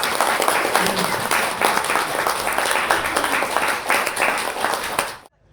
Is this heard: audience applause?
yes